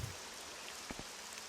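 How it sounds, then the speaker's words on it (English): Rain falls in the game Morrowind Bloodmoon, a steady soft hiss of drops with a couple of faint patters, with no talk. "Oh, it's raining."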